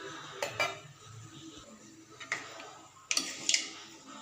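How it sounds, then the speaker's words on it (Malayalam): Fried mustard seeds tipped from a pan into another vessel for a mushroom curry, with a few sharp metallic clinks and scrapes of cookware spaced through a quiet kitchen. "ഈ കടുക് വറുത്തത് ഞാൻ ഒരു വേറൊരു പാത്രത്തിലേക്ക് ഒന്ന് മാറ്റി വെക്കുവാണേ"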